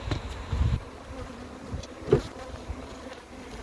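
Honey bees buzz around open hive frames in an apiary, a soft, continuous hum with individual bees droning past close by now and then.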